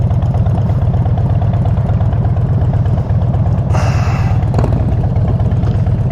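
Police motorcycles idle steadily and loudly close by, a continuous low engine rumble with a light clatter, heard at a protest scene in Paso Robles, California.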